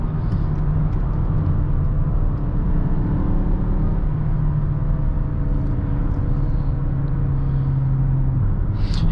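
Cabin of a 2020 Mazda CX-5 SUV cruising at 50 with the engine near 3,000 RPM: a steady, loud low rumble of engine drone and road noise with a faint tonal hum, continuous throughout.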